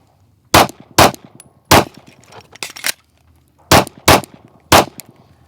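Pistol shots crack out on a stop-and-go shooting challenge run, loud and sharp at close range: quick pairs and singles with short pauses between, plus a few fainter metallic clinks of steel targets.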